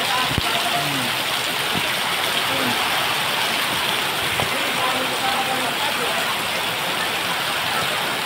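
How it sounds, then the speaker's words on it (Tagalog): Heavy rain pours steadily over rushing floodwater in a flooded low-lying neighborhood where vehicles are submerged, a dense continuous wash of noise throughout with occasional faint voices underneath. "Ang ulan, laki ng tubig oh."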